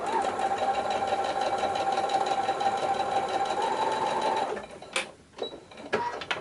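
Sewing machine stitching along a quilted fabric strip at short stitch length, a fast steady close mechanical whir for several seconds, then stopping with a few clicks and handling sounds.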